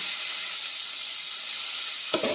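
Onion frying in hot oil in a kadai with whole spices and bay leaf, a loud close continuous sizzle that stays even, with a brief knock of a utensil near the end.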